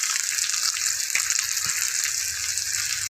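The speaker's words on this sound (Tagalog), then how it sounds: "Mag-grills tayo ng fish pork chop." Fresh pork chop sizzling on a grill, a steady loud hiss and crackle that runs unbroken, then cuts off abruptly.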